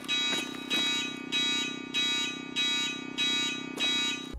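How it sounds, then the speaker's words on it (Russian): Shop alarm in the video game Escape from Tarkov, a loud electronic siren pulsing in steady repeated bursts roughly every 0.6 seconds, with a constant tonal hum underneath and no voices. "в некоторых магазинах заработает сигнализация"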